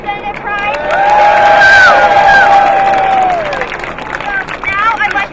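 A crowd at a 2023 March For Our Lives protest breaks into applause and cheering, with rising whoops and shouts swelling over the clapping for a few seconds before settling into murmuring and scattered calls.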